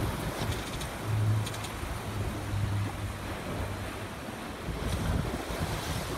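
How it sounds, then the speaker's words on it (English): Wind and ocean waves on a sailboat at sea off the coast between San Francisco and Monterey, steady gusting wind buffeting the microphone over surging wash of water against the hull, with a low drone throughout. "We have wind."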